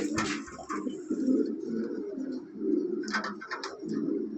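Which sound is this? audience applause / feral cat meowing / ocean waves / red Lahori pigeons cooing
red Lahori pigeons cooing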